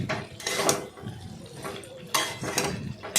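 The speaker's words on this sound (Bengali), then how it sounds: "ভালোভাবে নাড়াচাড়া করলাম।" Spoon scraping and clattering in a pan as soybean curry with garam masala powder is stirred, irregular close bursts of metallic scrapes and knocks with short pauses between strokes.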